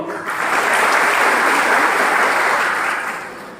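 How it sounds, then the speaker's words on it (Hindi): An audience at a speech event in Assam bursts into loud, dense applause that swells quickly, holds for a few seconds and then starts to fade. "तो सब आप लोग एक बार अपने लिए तालियां बजाइए सब लोग।"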